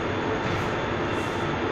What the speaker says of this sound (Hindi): एक मुंबई लोकल ट्रेन यहाँ पे लगा हुआ है